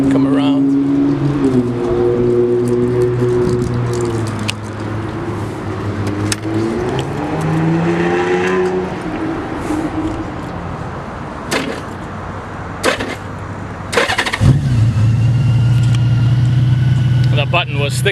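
Someone talks over background noise before the engine of a 2003 Honda Goldwing GL1800 motor trike cranks and catches, then settles into a low, steady idle nearby.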